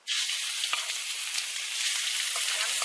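Redtail catfish sizzles and crackles steadily in a very hot thin wok at a campsite, a constant bright hiss with occasional pops, close by and uninterrupted.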